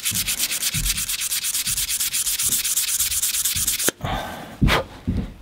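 Knife handle pins and bolt heads are hand-finished with steady, rapid back-and-forth sanding strokes, a loud close abrasive rasp that stops abruptly, followed by a few slower, heavier rubs.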